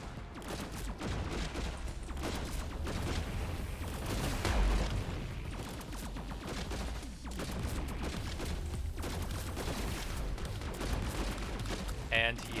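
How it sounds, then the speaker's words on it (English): Dense, continuous barrage of game weapon fire from a boss launching semi-homing missiles in the arena shooter Cosmic Coliseum, loud and unbroken with heavier booms mixed in across the whole stretch. "he has semi-homing missiles"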